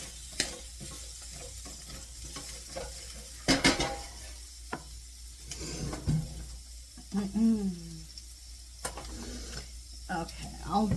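Food browning and sticking in a home frying pan, with soft sizzling under scattered clinks of utensils and pans and stirring scrapes, fairly close and moderately loud, without any talking.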